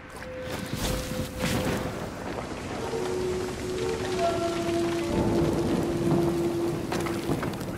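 Steady rain falls in the video game Trek to Yomi, a constant hiss throughout with faint sustained tones drifting over it and no talk.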